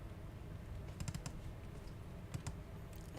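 Soft typing on a computer keyboard comes in a few brief clusters of clicks, with quiet gaps between them and a low hum underneath.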